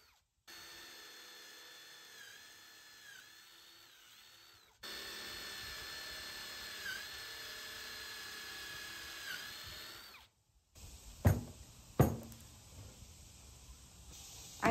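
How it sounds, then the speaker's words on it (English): A power drill drives pocket hole screws into wooden boards in two long, whining runs separated by a short pause. A few sharp clunks of handling wood follow near the end. "secured the boards with some wood glue and pocket hole screws"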